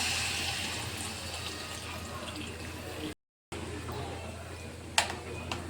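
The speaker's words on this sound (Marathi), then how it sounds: "पाणी याच्यामध्ये ओतून घेतलं" Water splashes and trickles steadily into a vessel at close range, with a brief gap midway and a small clink near the end.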